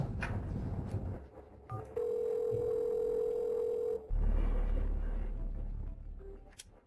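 A telephone call goes through: dial tones and keypad beeps, then a steady tone and ringing, all loud and close with no talk.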